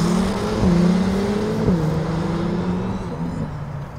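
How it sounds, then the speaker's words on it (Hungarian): A hot hatch accelerates hard on a race-track timing lap, its close engine note rising in pitch between gear changes, with a short dip at each shift, then easing off and fading slightly toward the end. "Hát a rajt majd meglátod, úgy kilőtt."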